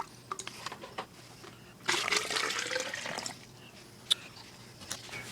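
Water pours and splashes from a Penn Plax Cascade 700 aquarium filter during a teardown, a burst of gushing lasting about a second and a half, framed by quiet drips and small clicks.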